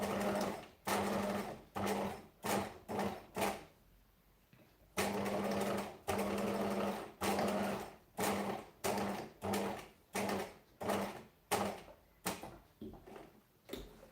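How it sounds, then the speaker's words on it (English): A sewing machine top stitches a pocket down, running in many short bursts of varied length separated by brief pauses, close and moderately quiet. "So I'm just top stitching this other pocket down now."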